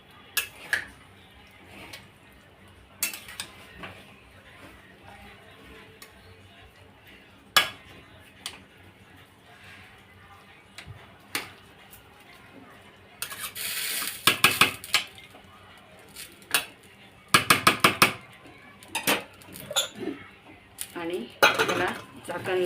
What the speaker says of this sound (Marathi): मी तो तवा यूज करून मी याला एकदा हलवून घेणार आहे